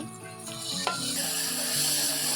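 Cinnamon, chopped onion and garlic dropped into hot oil: sparse clinks at first, a sharp hit, then the sizzle swells into a loud, steady hissing fry, close and uninterrupted.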